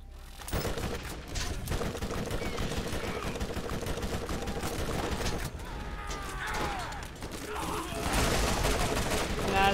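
Rapid gunfire in the Borderlands video game, dense bursts of shots rattling continuously at close range with clanks and impacts mixed in, loud throughout.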